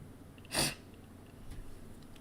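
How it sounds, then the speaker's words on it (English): A single stifled sneeze, a short muffled burst near the start, close and fairly quiet, followed by faint room noise. "I was stopping myself from sneezing."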